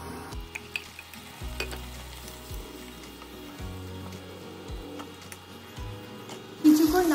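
Onion paste sizzling in a pan for Bengali katla fish kalia while a spoon stirs it, with a soft frying hiss under repeated low scraping strokes and a louder clatter near the end.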